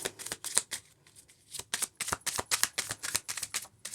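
A deck of playing cards shuffled by hand during a tarot-style card reading, crisp rapid riffling bursts and flicks in quick irregular runs, close and fairly loud, no speech.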